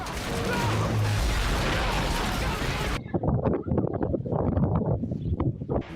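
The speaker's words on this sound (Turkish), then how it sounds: "Devasa hortum karşısına çıkanı yıkıp geçti." Roaring, buffeting tornado winds in Derik, Mardin, Turkey fill the first half, then give way to rapid crackling bursts and rumbles, loud and chaotic throughout.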